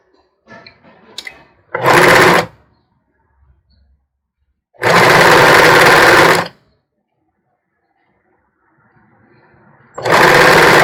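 A straight-stitch zigzag sewing machine stitching bra pieces in three loud buzzing bursts of one to two seconds, with quiet speech and fabric handling in the gaps between.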